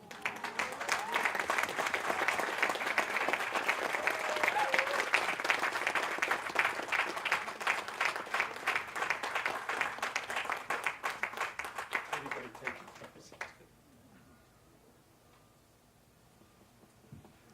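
A crowd at an annual observance event claps at length, loud and rhythmic with many individual claps, before the applause cuts off abruptly, leaving a quiet room.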